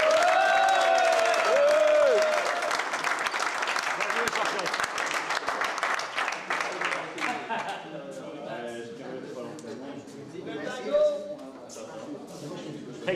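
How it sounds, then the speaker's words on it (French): Audience applause at an internal table tennis club tournament, a loud burst at the start that thins into scattered clapping and crowd chatter, with people talking over it. "Mais on peut applaudir Maxime Mercier"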